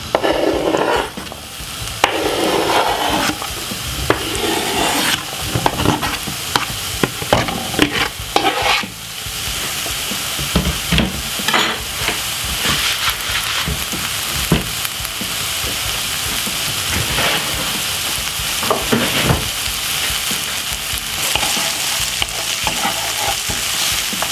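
Vegetables fry in hot olive or vegetable oil in a pan, giving a loud continuous sizzle with bursts of crackling and scraping as they are stirred, close by and with no talking.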